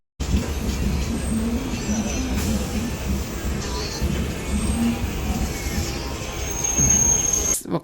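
DEMU passenger train running after a station halt, heard from on board as a continuous loud rumble with wheel noise and occasional faint squeals throughout.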